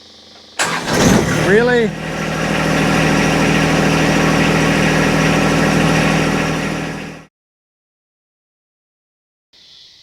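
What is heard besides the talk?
John Deere 2025R compact tractor engine starting and idling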